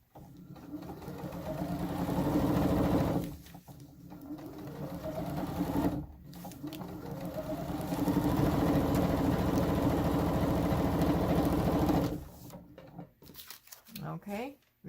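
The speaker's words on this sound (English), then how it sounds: "Put it in your sewing machine." A sewing machine stitches fabric strips in three long runs of fast, steady mechanical whirring, each stopping briefly before starting again, close and loud.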